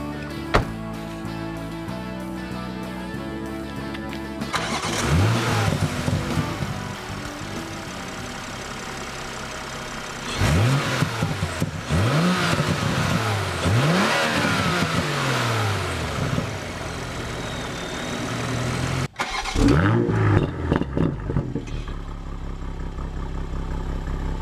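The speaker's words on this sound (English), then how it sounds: "This Supra uses BMW's fast-revving 3-liter twin-scroll turbo" A 2020 Toyota Supra GR 3.0 Premium with BMW's 3-liter twin-scroll turbo six fires up, idles, then gives several sharp revs that rise and fall, followed by another start and idle, loud and close.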